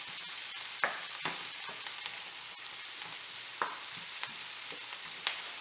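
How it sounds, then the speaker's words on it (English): Onions sauté in a hot pan for a Mediterranean meatball soup, giving a steady broadband sizzle with a few sharp clinks and scrapes of a utensil against the pan, close and moderately loud, with no voices. "You don't want to saute the onions very much, just so that it preserves some flavor, so you don't burn it."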